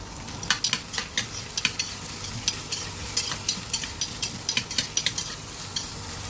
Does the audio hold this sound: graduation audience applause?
no